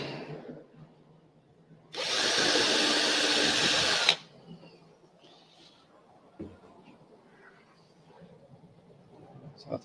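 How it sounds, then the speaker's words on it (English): A power drill whirs loudly for about two seconds while drilling holes in model train parts, then stops, followed by quiet handling sounds close by. "Just going to drill a couple of holes."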